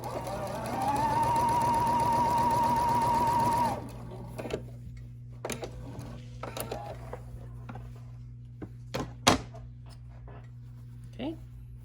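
A sewing machine stitches quilt pieces together in a steady, close whir for a few seconds, then stops; afterward come scattered clicks and handling noises of fabric and tools, with occasional speech.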